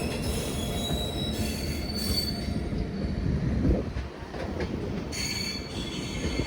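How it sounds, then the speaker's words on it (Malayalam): An express train departing Thoothukudi railway station, high metallic wheel squeals over a steady low rumble, the screeching rising and fading at intervals. "തൂത്തുക്കുടി നിന്ന് എടുക്കണ സമയത്ത് ഡിപ്പാർട്ടായി പോവാണ് വണ്ടി ഇവിടെ നിന്ന്"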